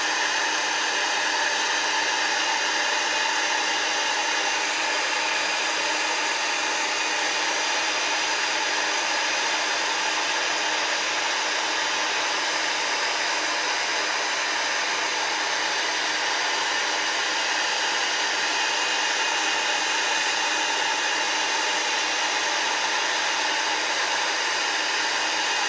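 A Stampin' Up! heat tool blowing hot air, a loud, unbroken whooshing roar with a faint whine, held close and level for the whole stretch without pause.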